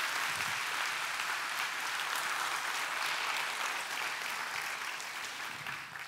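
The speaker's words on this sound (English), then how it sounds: "I think we should give God a huge applause" Church congregation giving sustained applause during a service, a dense, even wash of clapping that fades slightly toward the end.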